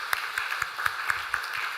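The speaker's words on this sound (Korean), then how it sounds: "우리 박수로 미리 축하하도록 하겠습니다." A church congregation claps for a bride and groom at a Sunday service, a thin, sparse patter of hands with a few sharper individual claps, fairly faint and without voices.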